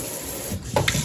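Water runs steadily from a kitchen faucet during a DIY kitchen remodel, a continuous hiss that swells briefly louder near the end as the flow shifts.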